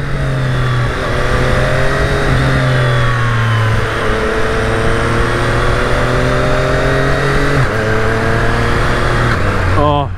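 A 2020 Triumph Street Triple RS motorcycle accelerates through the gears with its quick shifter. The loud engine note rises, then dips at each shift, heard close over steady wind rush.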